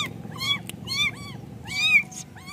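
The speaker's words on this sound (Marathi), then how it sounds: "करेक्ट या साईडला छोटी पिल्लं आहेत म्हणजे मांजराची" Small kittens meowing near a roadside by a temple, several high, repeated mews in quick bursts close by over low background rumble.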